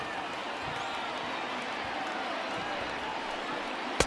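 A stadium crowd of more than 36,000 in the MLB The Show 20 baseball video game rises to its feet with a steady, loud roar that holds throughout and ends in a sharp knock.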